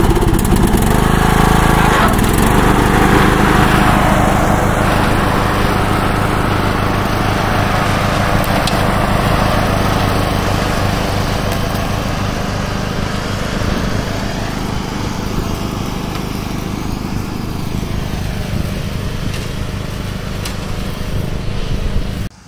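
A small engine drones steadily and loudly up close as a lawn mower cuts grass on a farm, running without a break for over twenty seconds with no speech.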